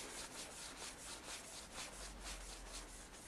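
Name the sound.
hand rubbing a BMW F 650 GS motorcycle part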